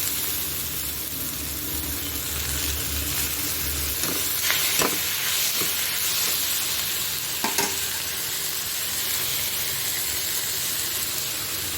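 Cauliflower thokku with tomato and masala frying in a pan, a steady loud sizzle and hiss with a few sharp scraping clicks of the spoon as it is stirred, no talk.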